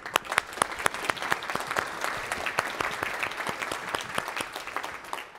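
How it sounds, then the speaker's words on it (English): A conference keynote audience at swampUP 2018 bursts into sustained applause, a dense wash of many hands clapping evenly, moderately loud and without speech. "I want you to give yourselves a round of applause, please."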